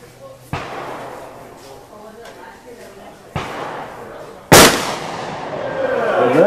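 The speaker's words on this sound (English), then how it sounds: "Steve Lutke shooting" Three sharp gunshots ring out at an outdoor shooting competition, spaced a few seconds apart, with the last one the loudest. Each is followed by echo, and a voice talks in between.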